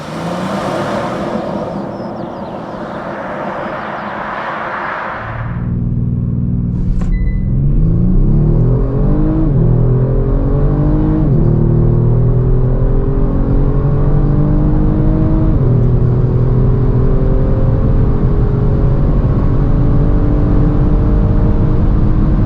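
A 2021 Kia Stinger GT facelift with its 3.3 V6 idles quietly, then roars off hard from about five seconds under launch control, the loud engine note climbing through several upshifts with steady, close rumble to the end.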